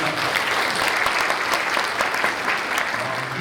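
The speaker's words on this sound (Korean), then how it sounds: "큰 감사의 박수를 좀 부탁드리겠습니다" Sustained applause from a large audience at an international drone sports and entertainment conference, an even, dense patter of clapping heard from within the hall at moderate level.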